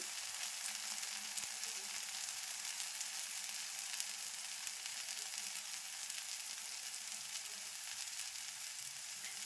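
Fritters frying in oil in a pan on a gas stove, a steady dense sizzle that holds evenly throughout with no pauses, close and moderately loud, no voices.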